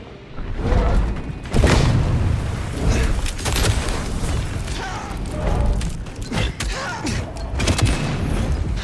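Grenade blasts and gunfire in the video game Vampire: The Masquerade - Bloodlines 2, loud and continuous with repeated sharp bursts and booms over a dense combat din, no voices.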